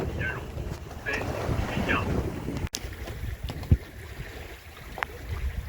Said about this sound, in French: La navette Belle-Île-Quiberon qui me coupe la route, mais ça passe largement.